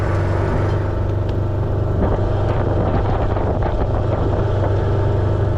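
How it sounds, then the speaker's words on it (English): A carbureted Kawasaki Mule utility vehicle with an open operator station runs loud and close, its engine giving a steady, noisy rumbling drone with no talk. "it's noisy, but that's just because it's carbureted"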